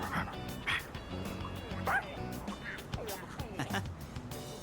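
A dog in Persona 3 Reload gives repeated short barks and yips over game background music, fairly close and steady throughout.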